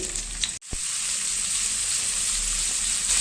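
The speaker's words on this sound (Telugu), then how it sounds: "రెండు ఉల్లిపాయలు వేగుతున్నాయి వేగుతున్నాయిటండి" Two onions frying in a pan for dal khichdi, a steady close sizzle running throughout with a brief clatter near the start.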